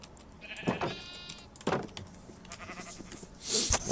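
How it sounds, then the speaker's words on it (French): Sheep bleating in the Minecraft video game, several wavering bleats over about four seconds with clicky game sounds in between, moderately loud and without speech. "un mouton gris avec un mouton blanc, ça donne quoi?"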